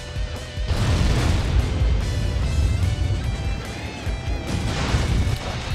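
Objects smashing in the Dynasty Warriors hack-and-slash game: dense, continuous crashing and booming impacts layered with game music, loud and close throughout, with no voice on top.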